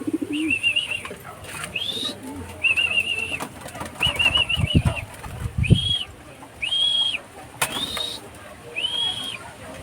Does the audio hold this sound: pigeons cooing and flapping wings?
yes